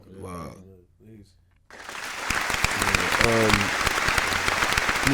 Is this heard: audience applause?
yes